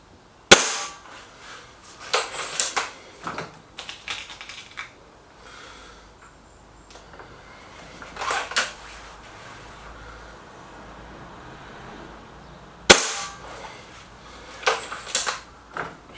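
A Gamo Whisper X air rifle fires at a target gallery, with a few sharp, close cracks spread out over time, each followed by faint clanks and handling noises, with no talking.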